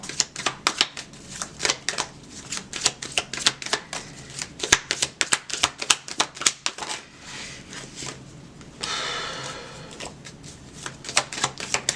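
Oracle cards shuffled for a reading, a long run of quick crisp riffling flutters and soft slaps repeating in bursts, close and clear with no talk.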